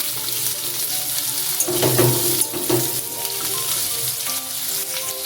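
Diced potatoes drop into hot oil tempered with nigella seeds and fry with a steady, close sizzle, briefly louder and more crackly as they land, then settling into an even hiss.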